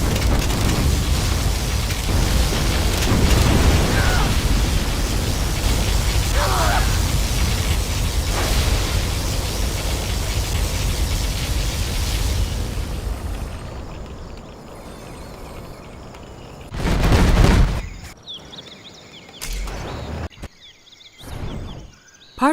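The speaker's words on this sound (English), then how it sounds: "Select target. Particle cannon activated." A particle cannon fires in Command & Conquer Generals, a long sustained roaring, crackling blast that rumbles loudly for over ten seconds, fades, then is followed by a few sharp bursts and booms.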